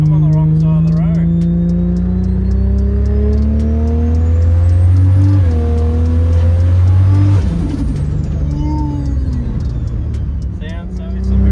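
A Holden VL Turbo, an Australian muscle car running 27 psi of boost, revs loudly while driving, its engine tone climbing and falling through gear changes with a sharp turbo release mid-drive.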